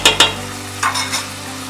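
Chopped tomatoes in a pan for biryani get stirred, giving a few short scraping strokes over a soft, steady sizzle.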